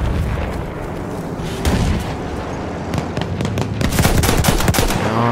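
Rapid machine gun bursts fire at a tank in the Battlefield 1 video game, loud and dense, with booming explosions mixed into a continuous chaotic battle din.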